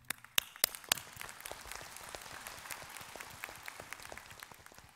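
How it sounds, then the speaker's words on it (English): Graduating students applauded at a university graduation ceremony in Hanoi: a few loud, sharp claps up front, then a soft, far-off patter of clapping spread across a large hall. "I would like to have a round of applause for all of you"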